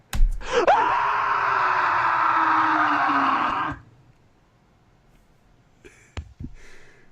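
A loud, sustained scream from a wrestling podcast host, rising sharply and holding for about three seconds before cutting off, followed by quiet and a few faint knocks and thumps.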